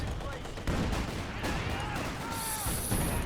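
Artillery barrage and mortar fire in a strategy video game, falling on a machine-gun position as dense, continuous rumbling explosions with cracks and booms layered over a loud battle din.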